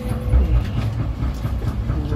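A passenger train crossing a river, rumbling steadily with low rolling rail noise and faint clatter of the carriages, close and continuous with no talking.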